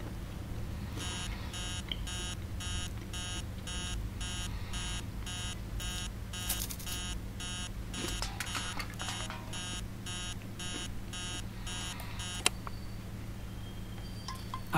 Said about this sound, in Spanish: Apagamos la alarma.